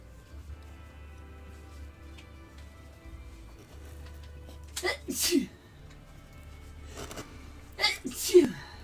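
Two sharp sneezes a few seconds apart, fairly close and loud, breaking into a quiet room where someone is carving a wooden owl, with a low steady hum underneath.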